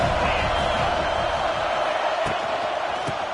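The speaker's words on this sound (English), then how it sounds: "This crowd ready to make its presence known." Stadium crowd noise in the NCAA 26 college football video game, a dense, steady roar of cheering fans that fills the space evenly throughout.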